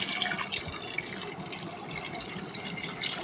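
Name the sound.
water poured into prawn and mango curry pot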